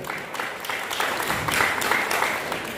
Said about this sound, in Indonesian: Jadi berikan tepuk tangan dulu kepada Ketua Umum.